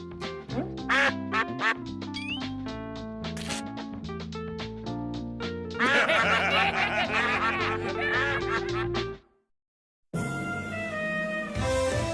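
Loud, repeated duck quacks over busy cartoonish music, with snickering laughter, a brief silence, then more music.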